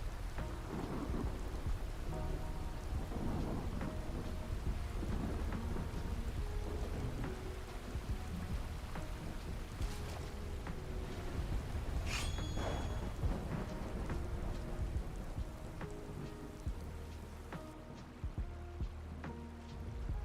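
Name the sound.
rain and thunder in the video game Skyrim (LoreRim)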